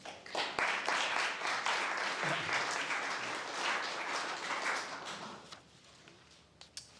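Audience applause fills a lecture hall, steady and fairly loud clapping that thins out toward the end into a few scattered claps.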